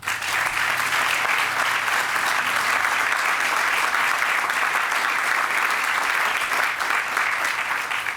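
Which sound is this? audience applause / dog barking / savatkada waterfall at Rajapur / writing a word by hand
audience applause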